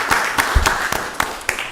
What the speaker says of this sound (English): Y'all give Ron Farley and the task force a round of applause